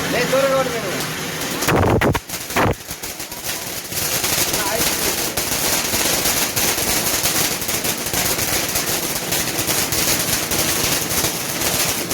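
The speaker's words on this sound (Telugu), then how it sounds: "మేము ఇక్కడ కాల్చుకుంటున్నాం కొన్ని పటాకులు" Diwali firecrackers burst at home: a loud crackling volley near the start, then a sustained harsh hissing roar that carries on under people talking.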